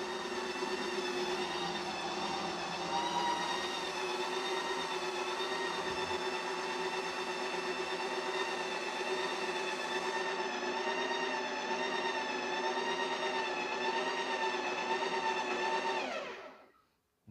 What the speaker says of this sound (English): I saw a maximum of about 64 decibel while the machine only was running